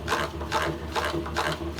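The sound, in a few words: honey extractor being spun by hand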